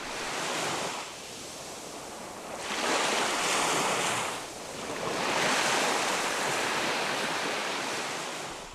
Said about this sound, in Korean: 변산바다에 이르면 가장 먼저 파도가 마중을 나온다